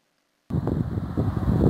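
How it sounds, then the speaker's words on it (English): After a moment of silence, wind buffets the microphone with low rumbling gusts, steady and close, outdoors near a wind farm. "Little windy out here."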